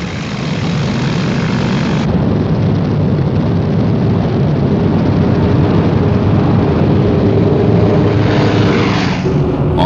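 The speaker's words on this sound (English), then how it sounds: "325 super fortresses arrived over the Japanese capital. All of a sudden, the blast from airplanes came over like a roar." B-29 Superfortress bombers flying over Tokyo, a loud, unbroken droning roar of many propeller engines that fills the whole stretch at constant intensity, with no voices.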